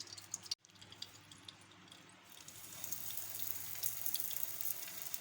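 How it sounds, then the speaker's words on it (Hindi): Ghee poured into a frying pan while cooking mini parathas, giving a soft, continuous liquid trickle and faint sizzle that grows slightly louder toward the end, with no voices. "अब ये फ्राई पैन के ऊपर मैं थोड़ा सा घी डाल रही हूँ।"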